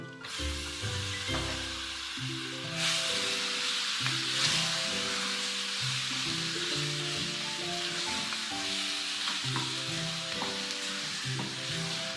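Mutton with coriander and mint frying in a pan for biryani, a steady loud sizzle with stirring, while kitchen music plays over it throughout.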